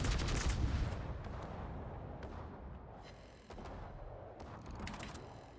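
Battleship secondary guns fire in World of Warships aboard the Mecklenburg, a series of muffled, rumbling booms and sharp reports over dense, fairly quiet background noise.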